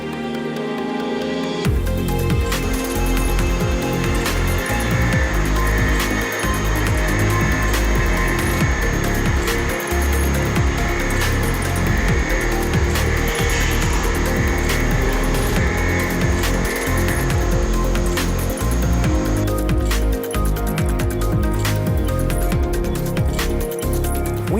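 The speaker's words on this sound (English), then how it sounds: "It took us 18 seconds to machine a single thread" Walter T2710 thread milling cutter machining a thread into low alloy steel, a steady continuous metallic whirring and grinding that runs loud and unbroken for about twenty seconds, close by with no talking.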